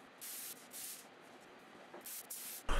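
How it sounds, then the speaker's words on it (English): Two-part epoxy primer sprayed onto desk legs, heard as quiet bursts of hissing spray starting and stopping several times, with a louder, closer burst at the very end. "I spray some primer on the legs. This is a two-part epoxy primer"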